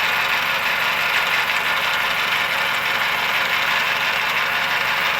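Metal lathe turning a titanium ring in a machine shop, a continuous dense mechanical whir with a busy grinding texture, steady and loud from start to finish with no talk.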